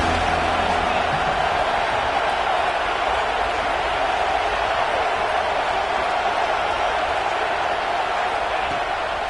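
A large crowd roaring steadily in a stadium, a continuous loud wash of cheering without distinct voices.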